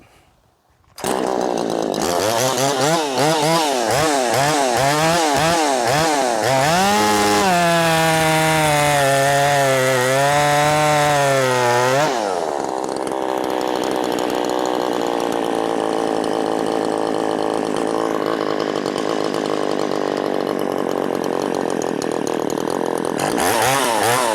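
A ported Poulan Pro 4620 chainsaw roars loud and close, revving up and down with the throttle before settling into a steady high-pitched run.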